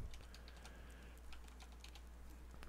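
Steady typing on a computer keyboard, close and fairly quiet, a run of quick key clicks in an uneven rhythm with no talk over it.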